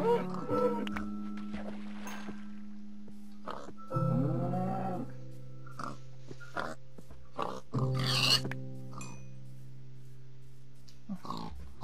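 Farm animals grunt and oink in Minecraft at low volume, in short scattered bursts. Someone speaks Spanish over a steady humming background.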